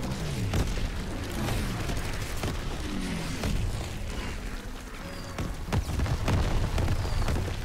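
Heavy explosive blasts and battlefield booms from the World War II shooter Call of Duty: WWII, loud and dense with repeated sharp bursts over a rumbling low din, no voices.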